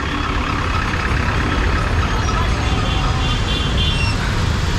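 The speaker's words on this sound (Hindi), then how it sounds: "देखो ट्रैफिक कितना है यहाँ पे," Heavy, congested road traffic with trucks near the New Pamban Rail Bridge, a loud continuous roar of engines and tyres that stays dense and steady throughout, with no clear individual horn or voice standing out.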